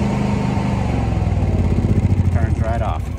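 A Duramax generator engine, started remotely, runs steadily and loudly with a throbbing mechanical pulse as a voice speaks over it.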